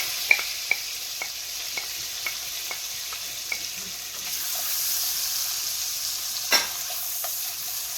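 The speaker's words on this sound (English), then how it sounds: "Okay, I'll put my mushrooms back in." Mushrooms dropped back into a frying pan during a shrimp and mushroom Marsala, with a steady soft sizzle, light stirring clicks and one sharper clatter near the end, no voices.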